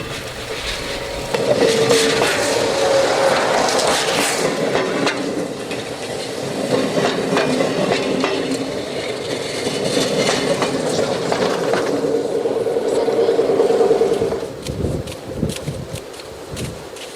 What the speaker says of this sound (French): Ce train croiseur, le voici. Il est composé d'un X2200, de 2 remorques XR6000 et d'un X2800.